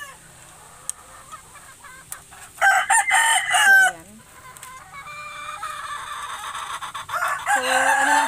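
Roosters and hens in a simple homemade breeding pen crow and cluck in several loud bursts, with a few short spoken words between the calls.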